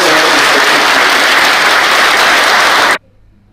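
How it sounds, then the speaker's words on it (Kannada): An audience claps loudly and densely at an event for a Rajya Sabha nomination at Dharmasthala, with the applause filling about three seconds before cutting off abruptly into near silence. "ಜೋರಾದ ಚಪ್ಪಾಳೆ ಮೂಲಕ"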